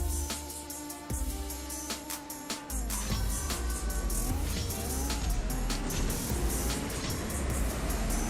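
A car racing in CSR2, a drag-racing mobile game, with a loud, steady engine roar, rising whines through gear changes and a constant low rumble filling the whole stretch, no speech.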